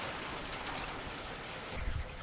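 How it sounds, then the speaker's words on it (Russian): Light hail pattering steadily on surfaces outdoors in March, a soft, even crackling hiss that stays faint throughout, with a slightly louder low thump near the end. "по-моему, даже град небольшой идет"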